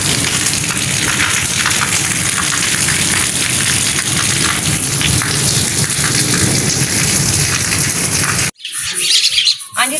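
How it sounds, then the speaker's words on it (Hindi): Heavy rain pours steadily and loudly in a village setting, with faint bird chirps mixed in, before cutting abruptly to a brief quieter stretch at the end. "तो बाकी जो है ना बारिश काफ़ी हो चुकी"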